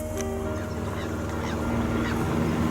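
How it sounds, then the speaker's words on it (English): Strange birds call in Australia, a few honking, goose-like cries rising over a loud steady background hum and drone, with no talk. "They do have weird birds here, don't they?"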